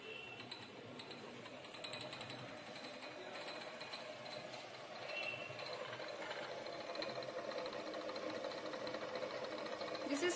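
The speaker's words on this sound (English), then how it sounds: "This is how the solution is formed using the magnetic stirrer." A magnetic stirrer runs on a lab bench, mixing chitosan solution in a beaker. It gives a steady, faint mechanical whir with a light rattling texture that continues without pause.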